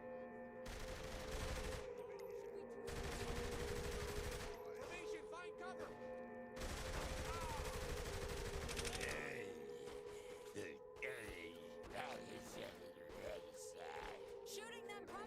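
Gunfire from a video game trailer shown at an Xbox Games Showcase: repeated bursts of rapid automatic fire in long volleys, mixed with mechanical clanks and crashes, with voices talking over the action.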